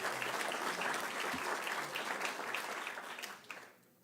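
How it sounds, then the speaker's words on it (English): An audience at a hall of fame induction ceremony claps steadily for several seconds, a dense, fairly distant wash of applause that fades out toward the end. "And so, yes, we can clap."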